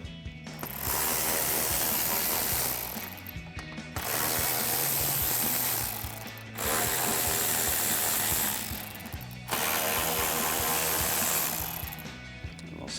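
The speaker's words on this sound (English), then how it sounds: "grab our 10mm socket and ratchet and remove our 4 bolts here at the top" A 10mm socket and ratchet remove bolts from the top of a Toyota Tundra grille, sounding as four separate runs of rapid, close metallic clicking with short pauses between them.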